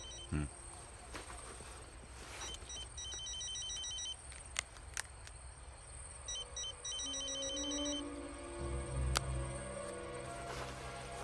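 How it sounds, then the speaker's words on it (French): A mobile phone rings in repeated short bursts of bright, trilling tones, fairly faint, with people talking quietly underneath and some scattered clicks and movement. "Ah, c'est ton téléphone."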